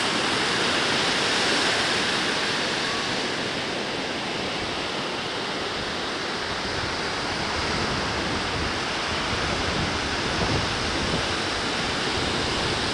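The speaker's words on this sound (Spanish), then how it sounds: "Hermosas las olas." Ocean surf at Playa El Revolcadero beach in Acapulco: a steady, loud wash of breaking waves that roars continuously with slight swells in intensity and no voices.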